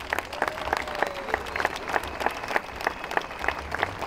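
An audience at a political rally in Kriva Palanka gives steady, sustained applause, dense clapping at mid distance with faint crowd murmur beneath.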